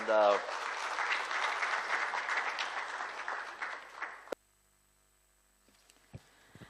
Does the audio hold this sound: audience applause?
yes